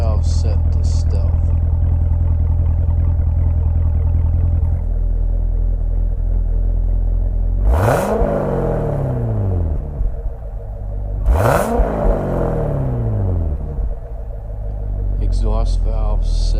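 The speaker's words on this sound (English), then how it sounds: "Exhaust valve set to stealth." A 2019 Corvette Z06 Special Edition with track pack exhaust, valves in stealth mode, idles with a steady low rumble before two sharp revs blip and fall away, then settles back to idle.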